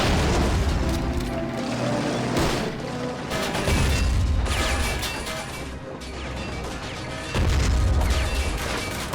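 Blue tanks fire in an Army Men of War battle, loud booms and crashing impacts rolling over a dense, continuous din of combat, with heavier blasts bursting out near the start, middle and end.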